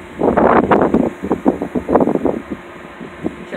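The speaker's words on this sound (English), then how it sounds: "Sure is windy out" Gusty wind blows outdoors with smoke from a nearby fire in the air, buffeting the microphone in loud, uneven rushes that swell and fade over a few seconds, with no voices.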